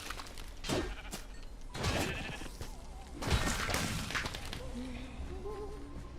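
Sheep bleating in the Minecraft Dungeons video game: a few short, wavering bleats under game sounds of thuds and footsteps, with the last bleats clearer toward the end.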